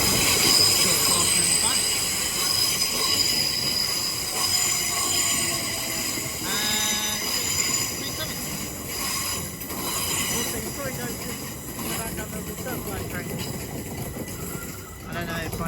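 Class 37 diesel locomotive 37135 arriving at London Paddington on the Great Western Main Line, with a loud, steady rumble of rolling stock, harsh wheel squeal and metallic clatter under a busy station atmosphere, with a voice talking over it.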